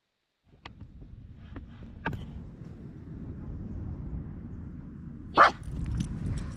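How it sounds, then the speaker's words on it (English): A dog barks at a distance in a quiet indoor room, several short isolated sounds scattered across the clip and one louder, sharper bark near the end over a low hum. "Did you hear that bark?"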